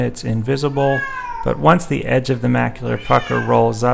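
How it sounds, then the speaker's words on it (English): A domestic cat meows repeatedly in the background, its drawn-out cries overlapping steady narration from someone speaking close to the microphone throughout. "I apologize for my cat, which keeps meowing in the background as I'm making this soundtrack."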